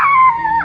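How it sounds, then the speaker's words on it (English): Ollie, a dog at a park, gives a single drawn-out howling yelp, loud and close, sliding down in pitch before a short upward whine at the end. "Ollie's barking at him for some reason"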